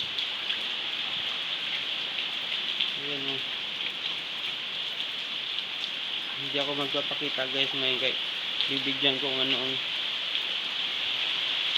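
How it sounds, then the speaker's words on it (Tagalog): Heavy rain falls in a steady, dense hiss during a rainy-season storm with strong wind, while someone speaks briefly over it. "malakas na ulan."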